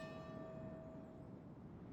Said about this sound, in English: Oh, you can hear the bell going.